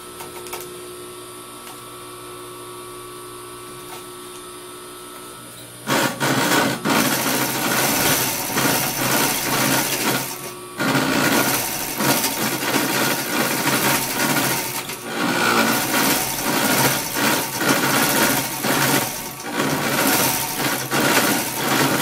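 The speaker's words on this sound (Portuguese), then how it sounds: "Então aqui eu vou overlocar o gancho" Overlock sewing machine serging the crotch and side seams of a jumpsuit, starting abruptly after a quiet stretch and running loudly and steadily close by, with a few brief dips.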